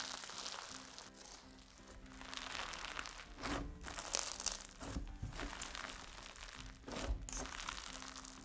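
Crunchy slime packed with extra ingredients is squished and mixed by hand, giving continuous close crackling, crinkling squelches in repeated pressing waves, fairly quiet, with no voices.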